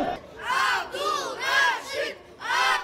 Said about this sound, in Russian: Вот так болельщики встречали каждый выход главной звезды этого турнира